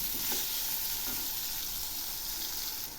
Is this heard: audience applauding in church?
no